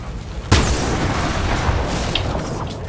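A car explodes in a video game, one sudden close boom followed by a sustained roaring, crackling burn.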